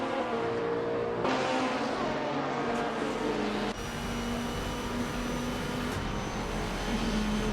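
AI race cars at Interlagos in the GTR Mayhem racing game, engines whining at high revs with sudden pitch shifts as gears change and cars pass, a continuous loud drone.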